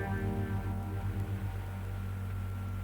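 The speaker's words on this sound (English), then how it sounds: "Then coupled with a phasing unit, it sounds like this." Insight electric guitar played through a phasing unit, a sustained harmonic tone with a gently pulsing, swirling texture, steady and fairly loud with no talk.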